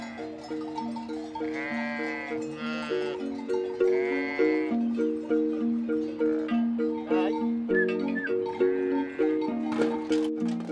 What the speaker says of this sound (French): Chaque jour, il fait venir son troupeau de brebis du parc de nuit vers le parc de traite.